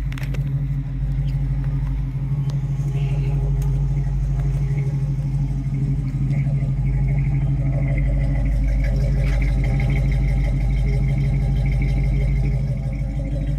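The original 260 V8 in a 1964 Ford Mustang coupe with automatic transmission idles steadily, a close, even low rumble that continues alone without a break.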